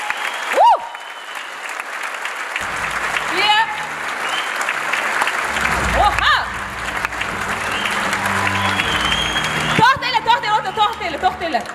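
A concert audience at a 2017 solo show by a singer applauds steadily, the dense clapping running throughout while someone talks over it in bursts.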